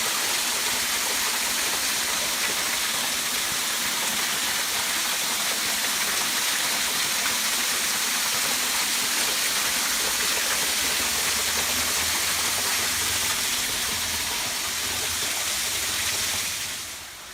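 A small creek in the Red River Gorge valley in Kentucky gives a steady, broadband rush of flowing water that holds even and unbroken throughout before easing slightly at the end.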